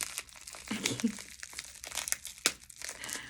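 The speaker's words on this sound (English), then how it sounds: "So I'm gonna try to open these up without hurting myself. I just want to rip them open." Plastic packaging of DragonSpikes being torn and crumpled open by hand, with crinkling bursts and a sharp rip near the end, close and fairly quiet.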